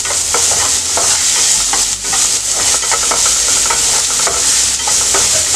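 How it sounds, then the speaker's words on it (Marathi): Finely chopped onion with a little salt sautéing in a pan on high heat, a loud continuous sizzle with the scrape and clink of stirring repeating through it, close up and with no voices. "एक छोटा कांदा बारीक चिरलेला, थोडंसं मीठ, परतून घेऊया।"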